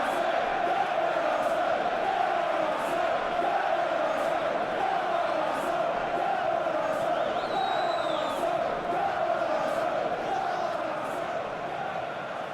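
A capacity crowd at an Arsenal vs Bayern Munich UEFA Champions League football match sends up a dense, steady roar that fills the stadium and stays loud throughout, with scattered whistles and shouts.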